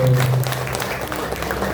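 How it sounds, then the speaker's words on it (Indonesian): Brief applause from an audience gathered at a therapy clinic event, a dense wash of clapping that follows a speaking voice at the very start and continues evenly for under two seconds. "Tepuk tangan dulu dong Bapak Ibu."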